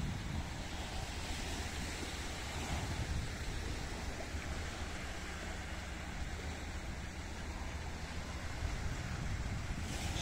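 Sea waves wash steadily onto the shore on an October day, a constant broadband rush mixed with wind that stays even and moderately faint with no voices.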